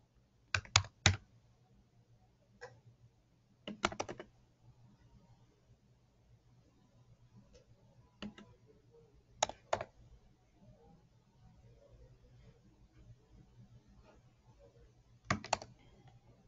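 Typing on a computer keyboard comes in short scattered bursts of crisp clicks separated by quiet pauses, close and clear over a faint hum.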